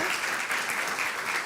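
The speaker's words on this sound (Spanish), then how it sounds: "Un aplauso nuevamente a los chicos por sus reflexiones sobre la IA." An audience at a school conference gives dense, steady applause with many hands clapping together. It sounds like a continuous, even wash that stays full throughout the brief moment.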